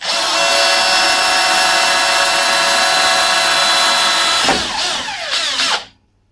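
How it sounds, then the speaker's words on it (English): A power drill with a faulty speed controller whines loudly and steadily, then its pitch wavers and sweeps down before the motor cuts out. "the speed controller seems to have broken on this drill, and it speeds up and slows down on its own"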